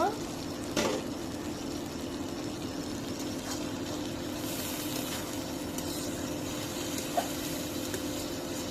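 Pointed gourd frying in a pan and being stirred, a steady sizzle with occasional utensil clinks, and a voice speaking faintly.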